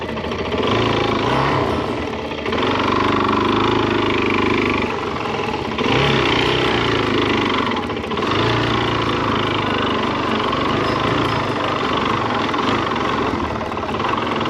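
A lightweight off-road motorcycle engine runs loud and close on a Scandinavian trail ride, a steady rough drone with brief throttle dips around two, six and eight seconds, no voices.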